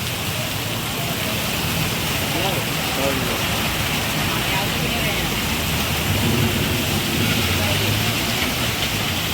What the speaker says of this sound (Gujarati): એટલો ધોરો વરસાદ પડે ધોરો